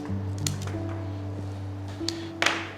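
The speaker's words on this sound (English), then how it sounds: "So I'm just going to cut the pieces off." Scissors snip plant stems for a floral centerpiece, giving a few crisp cuts against a steady background hum.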